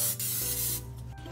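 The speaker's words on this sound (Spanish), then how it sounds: "Vamos a poner un poquito de spray para cocinar en la parte de arriba de la tortilla." Cooking spray hissing onto the top of a tortilla on a plate, a loud steady spray lasting about a second before tapering off, with no voices.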